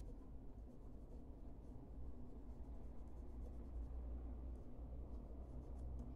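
Faint, steady scratching of colouring on paper continues without pause in a quiet room, with no voices.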